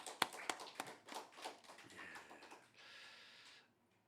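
Congregation applause at a church afternoon praise service in Daegu, a dense burst of clapping with a few sharp claps early, swelling and then tapering off after about three and a half seconds.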